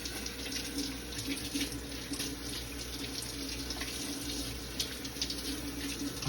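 Tap water runs steadily over produce being rinsed after a vinegar-water soak for a raw vegan meal. The splashing hiss is continuous and close, with no talking over it.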